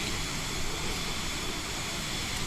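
Steady broadband roar of a Cirrus Vision Jet cruising near 30,000 feet in Microsoft Flight Simulator, a constant loud cabin drone with no variation and no talk.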